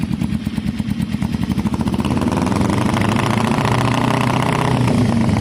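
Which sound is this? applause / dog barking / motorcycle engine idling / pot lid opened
motorcycle engine idling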